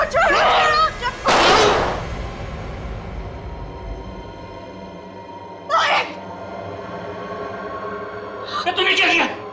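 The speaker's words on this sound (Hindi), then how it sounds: "तेरे वजह से गोली चल गई।" Gunshot effect in a Hindi TV crime drama: an echoing blast cracks out early, with short bursts of sound later, set among dramatic dialogue and tense quiet.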